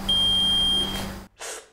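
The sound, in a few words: timer beeping for luminometer test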